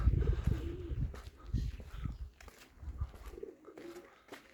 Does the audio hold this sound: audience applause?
no